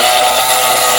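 An electric grinder whirs loudly and steadily as it grinds chillies, a dense continuous roar with no pauses and no talking.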